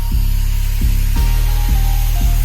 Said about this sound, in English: I swapped out the cutting disc on the grinder for a disc-shaped fine grit wood carving disc made by Cutsaw